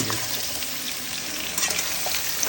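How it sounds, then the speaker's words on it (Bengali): Steady, crackling sizzle of chopped ridge gourd frying in a pan, with faint stirring scrapes over the constant hiss. "ভালো ভালো করে ভাজাভাজি চলছে"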